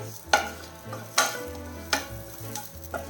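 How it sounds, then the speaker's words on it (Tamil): Shallots and curry leaves sizzle in a pan for a bitter gourd dish while a spoon stirs them with rhythmic scraping strokes about once a second over a steady hiss of frying, close up and with no talk. "கொஞ்சமாக கருவேப்பிலை அதையும் சேர்த்து நல்லா கிளறிடலாம்"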